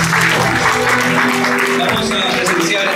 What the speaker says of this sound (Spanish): Las fuertes palmas, por favor.